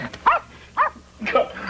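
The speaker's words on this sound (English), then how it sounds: "Call off your dog, Bossy." A dog barks three times in quick succession, close and fairly loud, with short gaps between sharp yelping barks.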